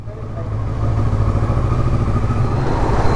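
Kawasaki motorcycle engine running steadily up close, a loud, even, throbbing drone with no talk over it.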